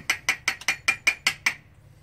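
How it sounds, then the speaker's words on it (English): A powder dispenser machine measuring charges for reloading 30-30 cartridges gives eight sharp, evenly spaced mechanical clicks close up, then falls quiet. "I heard the machine go off, so I can get my powder and bring it over and dump it in."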